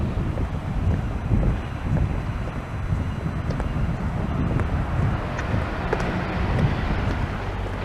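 Wind gusts across the microphone on a seafront promenade on a Sunday morning, a steady broadband rumble and buffeting that rises and falls without pause, with no voices.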